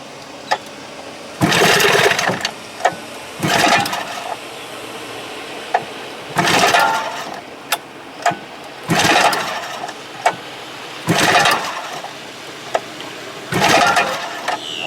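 A 1971 Johnson 20 HP outboard motor being pull-started, heard as about seven separate bursts of cranking noise, each lasting under a second, with short clicks and gaps between them and no steady running.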